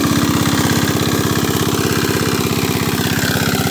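A 4HP diesel engine drives a 3-inch delivery water pump lifting water, its rapid, even thumping firing loud and close without a break.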